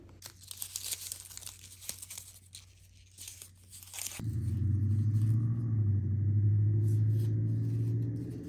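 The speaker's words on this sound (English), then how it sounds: "Just listen to this crinkle." Paper crinkles and crunches as it is shaped into handmade paper flowers, close and textured crackling for about four seconds, then cut off abruptly by a steady low rumble.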